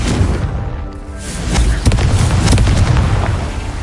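A Confringo blasting spell from Hogwarts Legacy erupts in a loud, booming explosion that rumbles on with a lingering crackling roar, with a second surge of blast noise swelling about halfway through.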